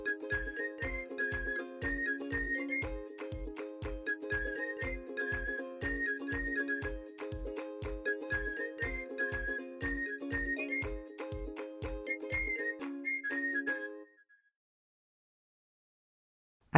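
A man whistles a bright melody over a steady beat of music, continuing for several bars before stopping abruptly and leaving silence.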